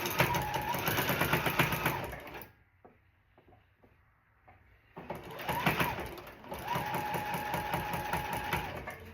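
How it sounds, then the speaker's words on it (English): A home sewing machine stitches rows of a rag quilt together, running in a fast steady whir for a few seconds, pausing briefly with faint clicks, then resuming its close, continuous buzz. "we're going to stitch this together"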